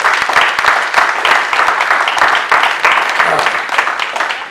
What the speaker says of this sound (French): Est-ce qu'on peut applaudir Jésus-Christ?